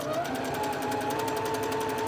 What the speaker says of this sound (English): we're going to walk over to the sewing machine. We're going to sew a 1/4 inch seam here